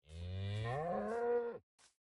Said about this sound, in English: And now we have new cow sounds.